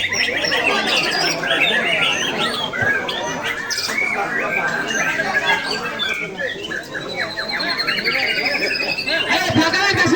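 Magpie robins sing at an outdoor bird contest on a public field, a dense chorus of loud squawks, chirps and rapid whistled phrases from many birds at once, continuous throughout, with someone talking over them.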